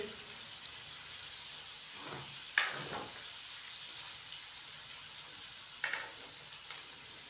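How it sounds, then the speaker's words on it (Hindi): Finely chopped onions frying in a pan, a soft steady sizzle with a couple of sharper stirring clatters, fairly quiet and close, no talking. "2 से 3 मिनट के लिए हम प्याज को फ्राई करेंगे।"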